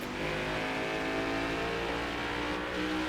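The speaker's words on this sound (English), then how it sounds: "I do like how they got the deeper, throatier sound of the exhaust system into the game" A NASCAR Next Gen race car in the NASCAR Heat 5 racing game gives off a deep, throaty exhaust roar, a steady, continuous engine drone at high revs throughout.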